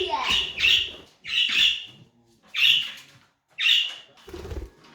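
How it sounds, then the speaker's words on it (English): A pet budgie beats its wings in several short bursts, fluttering close by as it tries to fly into a TV, each flurry separated by brief pauses. "The budgie tried to go into the TV."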